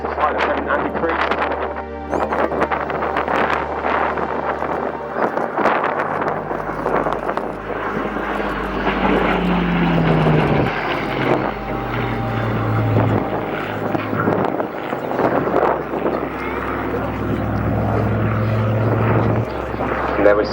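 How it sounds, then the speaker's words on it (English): A Spitfire displaying at the Cosford Airshow 2022 gives a loud, rising and falling propeller-engine roar as it pulls up and turns, with wind buffeting and a commentator's voice over it. "There we see the Spitfire pulling up into the manoeuvre that we call the half horizontal into a descending left-hand turn"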